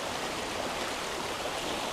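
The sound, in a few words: river water flowing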